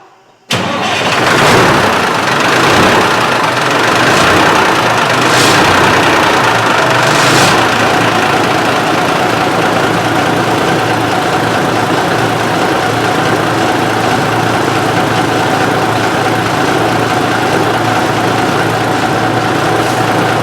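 A Peterbilt 359 truck's diesel engine cranks and fires, then settles into a loud, steady, rough idle that drones on close up with no break.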